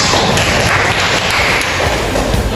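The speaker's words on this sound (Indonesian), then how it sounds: "Tepuk tangan untuk kelompok 4." A classroom of students applauds group 4 after their small-group discussion presentation, a loud, close, continuous wash of clapping that fills the whole moment with no talking over it.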